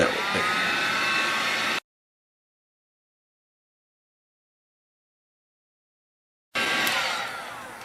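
A heat gun blows a steady, loud whooshing hiss onto the sides of an HP Envy laptop screen, cutting out abruptly to silence, then starting again and fading.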